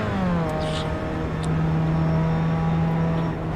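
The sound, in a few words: Pontiac race car engine at Atlanta, from video game iRacing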